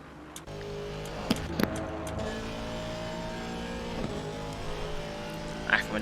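Race car engine droning around Monza in Assetto Corsa Competizione, a steady mid-pitched hum with a couple of brief rising revs and short sharp transients, running continuously under commentary talk.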